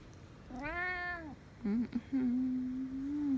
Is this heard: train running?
no